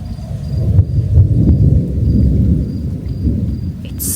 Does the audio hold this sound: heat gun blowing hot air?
no